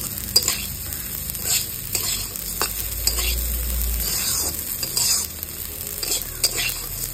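Rice for basanti pulao is stirred and fried in a hot pan, with a continuous sizzle under repeated scraping strokes of a spoon against the metal, close and fairly loud.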